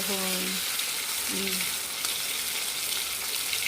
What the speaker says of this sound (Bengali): তো এবার মাংসটা একটু ভেজে নেব